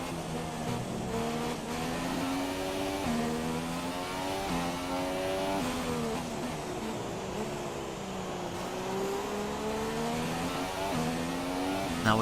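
A Formula 1 car in F1 2017 drives the Brazil circuit, its high engine screaming steadily as it rises and falls through gear changes, loud and continuous.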